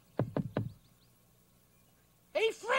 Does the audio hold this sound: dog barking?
no